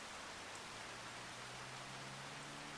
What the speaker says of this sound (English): So the rain is just magically falling from the blue sky up there.